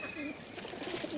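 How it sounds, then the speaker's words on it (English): Pigeons or doves coo softly at a park, a faint low murmur of bird calls with no speech. "Hello, birds."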